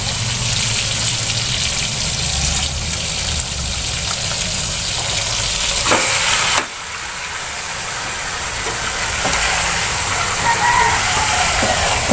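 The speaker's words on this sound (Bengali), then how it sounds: "এবার ম্যারিনেট করা মাংস এবার আমরা দিয়ে দেবো।" Marinated chicken meat goes into a hot pan with chopped tomatoes for chicken curry, giving a loud, steady hissing sizzle with a brief clatter partway through, close and continuous without talk.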